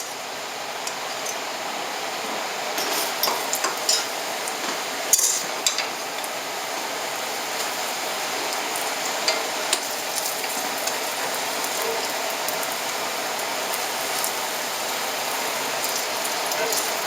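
Steady, dense crackling hiss of oil heating in a pan for a tomato and egg dish, continuous throughout with occasional sharper pops and faint clatter.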